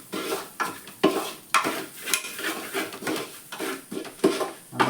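Masala for a Kerala-style drumstick theeyal roasting in a pan, with repeated rhythmic scrapes and knocks of a spoon stirring against the metal over a light sizzle, close and with no one talking.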